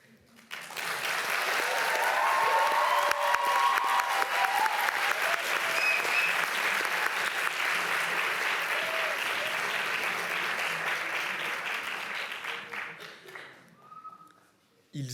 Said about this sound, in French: Merci d'applaudir Amine, Louane, Alicia, Lisa, Saint-Leb, Lou,